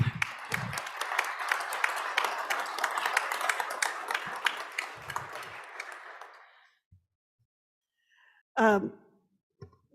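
Dense applause from a crowd at a state legislature floor session for about six seconds, then fading out, followed by near silence and a short voiced sound.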